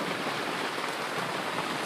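Heavy rain drums steadily on a canvas tent during a summer off-grid stay, a dense, even wash of patter with no gaps or voices.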